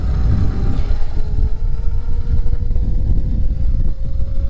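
Electric motor of a Razor MX400 scooter upgraded to 36V with DeWalt drill batteries, run at full throttle, giving a steady loud whine with a rising tone over constant rumble and wind noise, no talking.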